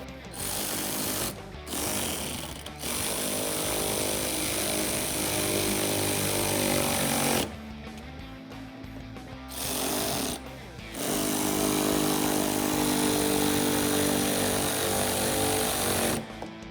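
Power tool whirring in long loud bursts with short pauses while 8mm socket bolts are snugged on Tacoma fender flares; the tool runs close and dominates, with no clear talk.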